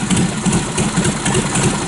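A Harley-Davidson Knucklehead motorcycle engine is being started, giving a brief, loud, close burst of rough, uneven low chugging with pulsing beats and no voices.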